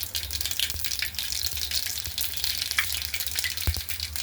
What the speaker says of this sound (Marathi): जिरे छान तडतडले